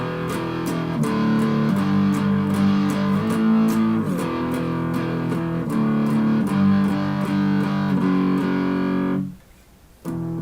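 Guitar strumming a song's chord pattern, steady rhythmic strokes ringing loud and alone for about nine seconds before cutting off into near silence, with one last stroke at the end.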